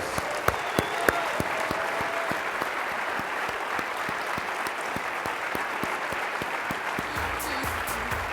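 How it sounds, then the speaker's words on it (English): Steady audience applause at a Ruby Heroes awards ceremony at a programming conference, dense continuous clapping from a large crowd, fairly loud and even throughout, with a few sharper nearby claps standing out. "So one more round of applause."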